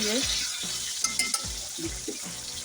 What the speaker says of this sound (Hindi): इस तरीके से हमने आहिस्ता आहिस्ता से इसको फ्राई करना है, बहुत एहतियात से